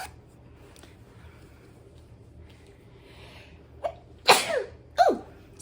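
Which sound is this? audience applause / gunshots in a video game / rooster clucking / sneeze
sneeze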